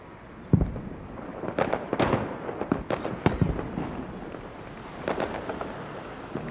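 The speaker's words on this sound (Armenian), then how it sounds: "Ամեն ուրեք հրավառություն է։" Fireworks and firecrackers go off outdoors, a string of sharp, irregular bangs and crackles at moderate distance with no talking.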